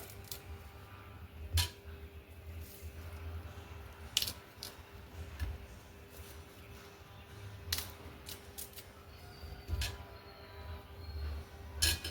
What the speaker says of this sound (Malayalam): ഇനി ഇത് നമുക്ക് കട്ട് ചെയ്ത് നോക്കാം